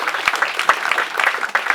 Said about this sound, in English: please, you can clap for that